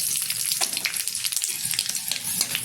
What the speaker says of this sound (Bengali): তেলটা গরম হয়ে গেছে, তেলের মধ্যে দিয়ে দিচ্ছি কিছুটা পাঁচফোড়ন, একটা তেজপাতা।